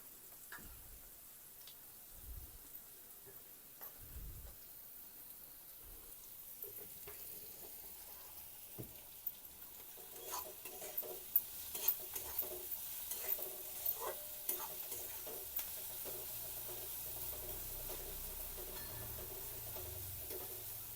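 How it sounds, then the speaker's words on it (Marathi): Onion and potato mixture for potato dosa sautéing in a pan, a soft continuous sizzle with scattered scrapes and taps of a spoon stirring, fairly quiet and close, growing slightly denser toward the end. "हे सर्व जे मिश्रण आहे टाकलेलं त्याला मध्ये ते आपण परतून घेणार आहे"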